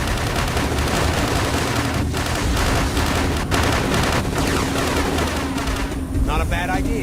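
Rapid gunfire crackles in the PC video game War On Terror from 2006, bursts of shots and booms layered densely with brief radio-style voices talking over the action.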